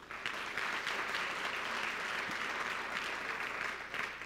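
An audience claps steadily at a city's State of the City address, a dense sustained round of applause from a large indoor crowd that holds evenly, then tapers slightly at the end.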